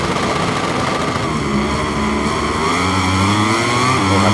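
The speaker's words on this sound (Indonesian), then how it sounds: "sekarang kita balapan pakai Fabio Quartararo nih, Yamaha" Yamaha MotoGP motorcycle engine racing at the Mugello circuit in the video game MotoGP 23, a loud, steady high-revving whine with rising and shifting pitch, continuous and close, with no talking.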